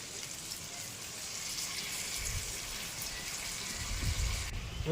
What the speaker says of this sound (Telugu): కొద్దిగా వాటర్ వేసుకోవాలండి